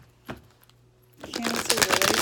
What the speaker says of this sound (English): Okay, so let's give this some shuffling up.